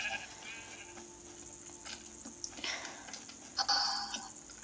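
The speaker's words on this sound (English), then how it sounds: "Oh, there's a sheep in there." A sheep bleats inside a survival video game, with a couple of short bleats rising over low game ambience, the loudest near the end.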